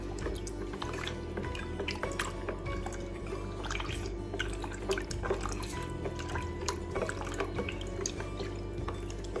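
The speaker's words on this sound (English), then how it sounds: "So I'm gonna mix the starter into the water." Sourdough starter is mixed into water, making faint, close liquid sloshes and scattered drips against a low, steady background.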